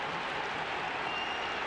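A stadium crowd at a 2014 National Football League Gaelic football match between Derry and Tyrone applauds a score, a dense, steady wash of clapping and cheering heard from a distance for a brief moment.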